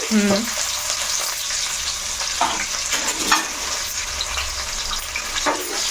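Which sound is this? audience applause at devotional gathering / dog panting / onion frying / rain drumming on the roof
onion frying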